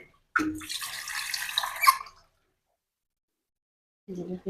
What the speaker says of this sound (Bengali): এ পর্যায়ে আমি কষানোর জন্য একটু পানি অ্যাড করবো